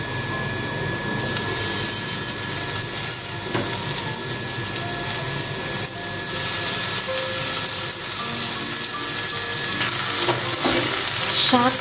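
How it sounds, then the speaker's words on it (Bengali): Chopped water spinach (kolmi shak) hits a hot pan and fries with a steady, loud sizzle and some stirring scrapes throughout, with no talk. "সব ভাজা হয়ে গেলে এরপর কলমি শাকটা দিয়ে দিচ্ছি"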